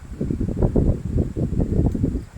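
Strong wind buffets the microphone in continuous low, rumbling gusts that swell and fade at a riverside campsite, with no voices present.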